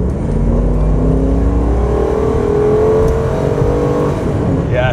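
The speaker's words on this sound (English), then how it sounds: "This thing has the totally stock normal exhaust, and it's ridiculously quiet." An LS V8 police car on its stock exhaust accelerates hard, its engine note climbing steadily in a loud, close, continuous drone with a rushing whir of wind and road noise, no voices present.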